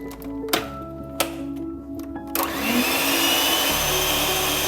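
An electric mixer beats butter and sugar for cake pops: a few sharp clicks and taps, then the motor whirs up into a loud, close, steady drone.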